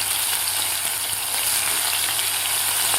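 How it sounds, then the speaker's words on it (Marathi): Eight or nine coarsely pounded garlic cloves fry in oil with a dense, even, hissing sizzle that holds steady throughout at moderate loudness. "तर लसूण सुद्धा व्यवस्थित परतून घ्यायचं आहे आपल्याला"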